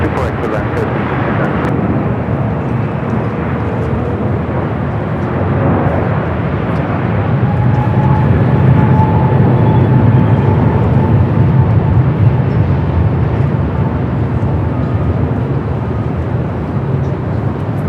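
A heavy Boeing Dreamliner jet on short final to runway 24 right at LAX makes a loud, sustained roar that swells and holds as it passes, with voices talking over it.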